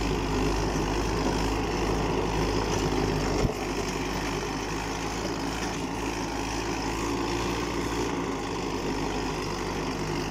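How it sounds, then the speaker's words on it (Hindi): A Fiat 640 tractor runs a rotavator on hard ground, a steady close engine drone with a continuous low rumble that drops slightly in level partway through, with no voices. "साउंड ट्रैक्टर का चेक कर सकते हो,"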